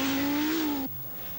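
A 1984 Audi Quattro rally car, two-wheel drive with a failing transmission, roars past at close range with a steady high engine note, then cuts abruptly to a quieter rumble.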